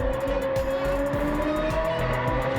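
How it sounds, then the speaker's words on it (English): Engine sound from a BMW E46 M3 race build with an S65 V8 in Gran Turismo 7, heard as a steady, loud, high-pitched drone with slowly rising pitch and rhythmic gear-shift pulses throughout. "nothing will beat the sound of an S65 or P65 engine"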